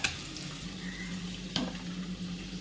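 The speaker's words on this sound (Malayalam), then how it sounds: "ഇനി ഇതിലേക്ക് നമ്മളെ വെജിറ്റബിൾസ് ആദ്യം തന്നെ ഉള്ളി ഇട്ട് കൊടുക്കാം." Onions fry with ginger garlic paste in a pan, giving a steady close sizzle with a sharp clink from stirring partway through.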